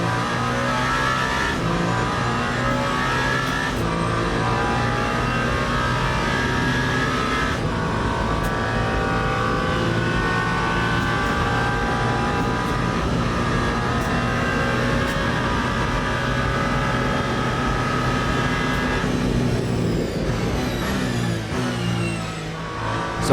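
Number 8 Toyota race car engine in the Le Mans Ultimate racing game during the 24 Hours of Le Mans start, revving hard and continuously with gear shifts and pitch changes, loud and close for over twenty seconds with no talk.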